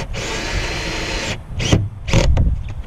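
A power drill whines steadily for over a second while drilling through metal on a 2019 Coachmen Freelander RV roof, then fires in two short, loud bursts separated by pauses, close up.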